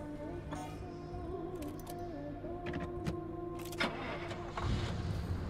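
A car in the Pacific Drive video game starts up and pulls away, its steady mid-pitched engine hum running throughout with a few clicks and clunks layered over it and a rougher surge near the end.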